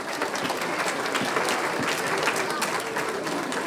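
Audience applause follows a sixth-grade school band showcase: steady, dense clapping from a large crowd that stays loud and even throughout.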